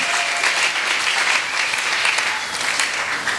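A church congregation claps in sustained, dense applause, loud and close, filling the space evenly with no pauses.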